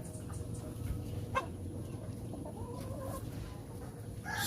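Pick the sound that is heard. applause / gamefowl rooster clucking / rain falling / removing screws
gamefowl rooster clucking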